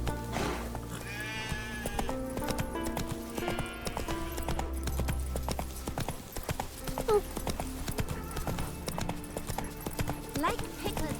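Horse hooves clip-clop steadily through an outdoor scene in The Witcher 3: Wild Hunt, close and continuous, with occasional whinnies and bleating animals nearby and a voice speaking over the hoofbeats.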